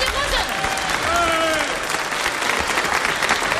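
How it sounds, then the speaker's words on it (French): A theatre audience applauds a comedy duo: dense, steady clapping fills the whole stretch, loud and close, while a voice or music tone rises briefly over it early on. "Sous vos applaudissements,"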